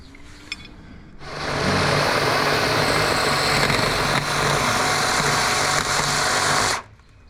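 A power tool drills out and widens a bolt hole in a part during a Lexus IS F supercharger install, running as a loud, steady whine for about five seconds before cutting off.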